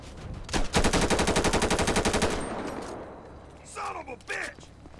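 Automatic gunfire in GTA 5 with the LSPDFR police mod, a single shot then a long rapid burst of loud, close machine-gun fire lasting about two seconds, followed by quieter game sounds and brief vocal noises.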